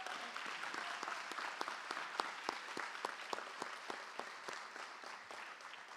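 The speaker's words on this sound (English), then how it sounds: "Let's give Silas a round of applause." A school board meeting audience applauds a high school wrestler who is a region champion. The clapping is steady and moderately dense, with several sharper individual claps standing out.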